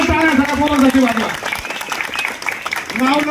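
A crowd at a Shiv Sena election campaign rally claps in a brief burst of applause, heard between stretches of someone speaking loudly into a microphone.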